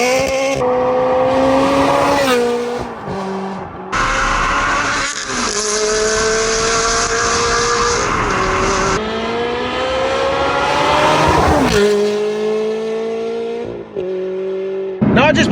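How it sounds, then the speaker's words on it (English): A Ferrari 360 CS driven hard through tight bends: loud, close engine notes rise and fall with repeated upshifts and sharp lifts, accelerating between corners with bursts of tyre squeal. "I've just been throwing this car around some pretty tight bends and doing some very heavy cornering."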